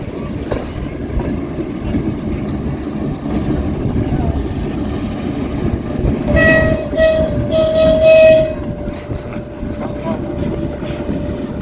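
A train passes on the track near a station on the Balykchy–Bishkek line by Lake Issyk-Kul, rumbling steadily with a horn sounding midway and people talking over it.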